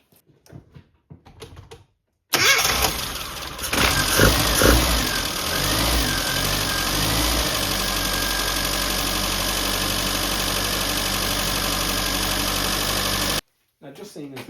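Rover Mini limited edition engine, left abandoned, cranks and fires at close range, then settles into a loud, steady idle with a rough, knocking undertone that holds until it is cut off.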